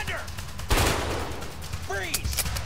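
Bursts of gunfire in the video game A Way Out, a loud volley crackling alongside scattered single shots over about three seconds, with voices talking in the background.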